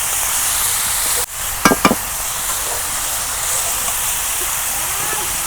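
Cabbage frying in a pan gives a loud, steady sizzle as it is stirred, broken by a brief dip and a couple of quick clattering scrapes of the spoon.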